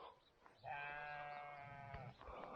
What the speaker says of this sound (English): This goat or sheep or lamb was constantly crying last night.